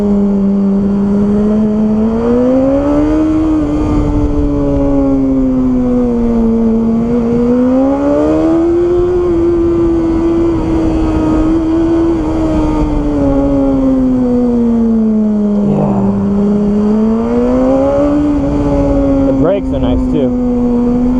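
A BMW S1000RR motorcycle ridden on a street, its engine loud and close with a steady drone rising and falling as the revs swell and ease, plus wind rush throughout.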